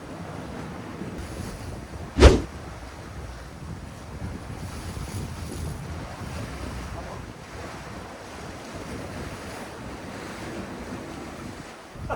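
Strong wind blows and waves wash against a seaside rock fishing spot, a constant roar of surf and wind buffeting the microphone, with one sharp loud knock early on.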